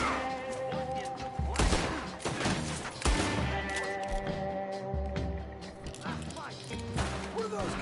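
Scattered gunshots and crashing impacts during a Red Dead shootout, set under a steady game soundscape and frequent character voices talking over the action.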